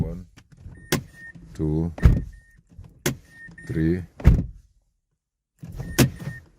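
Door locks on a 2007–2011 Mazda CX-7 cycling by themselves during key fob programming: several sharp mechanical clunks and actuator whirs in quick succession, close and loud, with someone talking between them.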